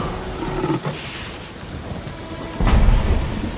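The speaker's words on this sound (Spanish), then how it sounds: "Pero no podrán guarecerse de esta tormenta" A heavy thunderstorm, with steady loud rain and thunder rumbling and cracking, swelling into a louder roll near the end and heard alone without voices.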